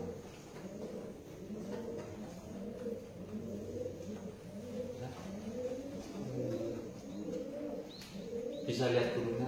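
Birds at a kennel give repeated soft, low cooing calls in a steady rhythm at a modest level, with faint background noise and a brief louder burst near the end.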